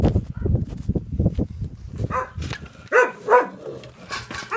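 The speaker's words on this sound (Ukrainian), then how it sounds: "Закриваємо собаку, бігає" A dog barking and yipping outdoors at a house during work on a hornet nest, with a close, loud run of rapid barks and whimpering yips that grows more spaced out toward the end.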